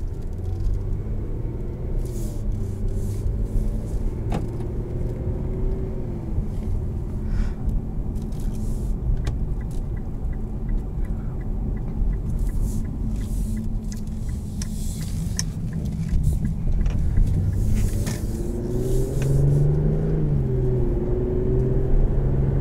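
A 2019 Infiniti Q60S Red Sport 400 heard from inside while driving: steady low engine and road rumble with occasional rises in revs, continuous throughout and free of talk.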